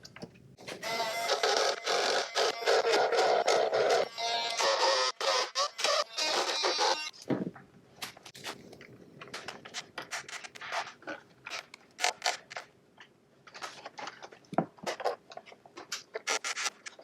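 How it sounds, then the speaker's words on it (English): A power drill countersinking screw holes for an iPad Mini wall mount, a harsh grinding burst lasting several seconds, followed by short intermittent scraping and clicking bits of work nearby. "I'm gonna have to do a little bit of countersinking so that these screws go all the way in"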